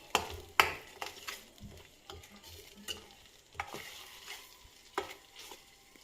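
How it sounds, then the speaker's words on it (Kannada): Masala for mushroom gravy frying in a pan, with a soft continuous sizzle broken by intermittent stirring scrapes and spoon taps against the metal. "ನೀಟಾಗಿ ಮಸಾಲೆ ಚೆನ್ನಾಗಿ ಫ್ರೈ ಆಗಬೇಕು"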